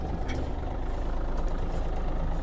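Yanmar AF-330 mini tractor engine idles steadily up close, a low even diesel rumble with no talk over it as the machine is readied to move off.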